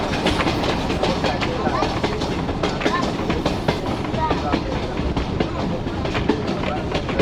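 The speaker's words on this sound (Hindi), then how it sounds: "ट्रेन हमारी कोट नजीबुल्ला रेलवे स्टेशन पर अप्रोच बना रही है इस वक्त" A passenger train on the Rawalpindi to Havelian line nears Kot Najibullah railway station, its wheels clattering loudly and continuously over the track in steady rhythmic beats, heard from on board.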